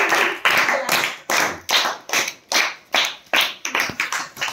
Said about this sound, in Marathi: या अश्विनीसाठी टाळ्या वाजवा.